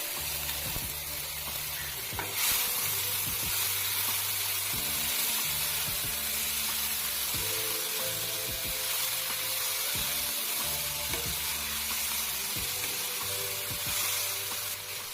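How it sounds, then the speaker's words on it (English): Sliced onion, capsicum, carrots and cabbage sizzle and fry steadily in a hot pan, a continuous loud hiss with occasional stirring scrapes and no talking throughout. "Now heat a pan and sauté the sliced onion for about 2 minutes."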